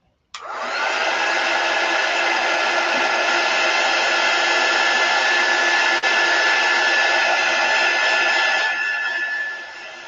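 Heat tool drying chalk paste on a wooden jar cutout, a steady loud blowing whir that starts abruptly and runs unbroken for about nine seconds before tapering slightly, with no talk.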